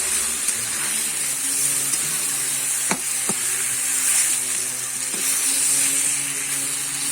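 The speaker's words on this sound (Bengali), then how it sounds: "এবারে কিন্তু আমি মাছটা দিয়ে দেবো দিয়ে কিন্তু আমি উল্টো পাল্টে একটু কষে নেবো" Shol fish fries Bengali style in oil with a loud, steady close-up sizzle and hiss, marked by a few sharp knocks as the pieces are turned in the pan.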